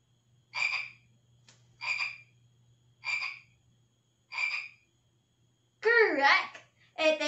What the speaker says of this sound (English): it is the sound for a frog